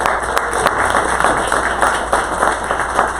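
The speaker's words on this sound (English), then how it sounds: "Go give Brent a round of applause." Steady applause from a crowd, dense and continuous throughout, with a few louder individual claps standing out.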